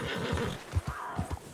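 A Morgan horse in Red Dead Redemption 2 gives a close, breathy whinny, joined by a few soft hoof clops and snorts in quick succession.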